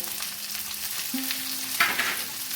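Spices for masoor dal with prawns sizzling and being stirred in hot oil with salt, turmeric, green chilli, red chilli powder and cumin powder, a steady close fry with a brief scrape of the spoon near the end.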